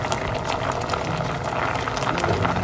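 Malunggay leaves simmer in a pot of boiling water for vegetable buridibud, giving a steady close bubbling and hissing with no talk.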